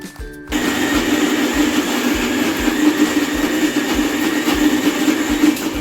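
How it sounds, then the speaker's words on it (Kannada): A loud, continuous whirring drone of a mixer grinder grinding green tomato chutney close by, with a rhythmic pulsing churn underneath, starting abruptly after a brief quieter moment. "ಮಿಕ್ಸಿಗೆ ಹಾಕಿ ಚೆನ್ನಾಗಿ ಮಾಡಿಕೊಡ್ತೀನಿ"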